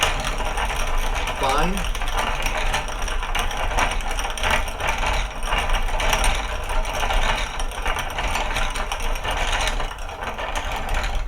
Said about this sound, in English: put it back through the mill again